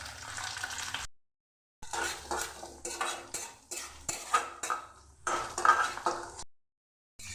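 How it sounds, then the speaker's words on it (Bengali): Chopped onion frying in a pan with dried and green chillies, a sizzle broken by repeated spoon-against-pan clinks and stirring strokes, with short silent gaps. "ভেজে নেবো লাল করে।"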